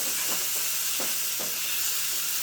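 Chopped tomatoes and salt go into a hot dal tadka pan, sending up a loud, continuous hiss of sizzling steam broken by a few soft stirring knocks.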